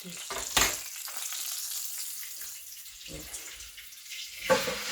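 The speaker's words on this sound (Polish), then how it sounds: "Mama kotleciki smaży." Steady crackling sizzle of breaded pork cutlets frying in a pan, with a couple of louder spits and clatters, no voices.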